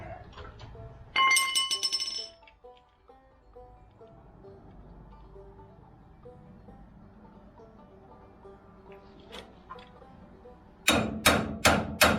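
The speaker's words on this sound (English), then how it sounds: "and it does snug up onto the old spindle there. That's why I'm tapping it on it, because I want it to be on there straight." A trailer wheel hub is tapped onto an old spindle. A quick cluster of sharp metallic clinks comes first, then a quiet pause, and then four bright, evenly spaced taps close by.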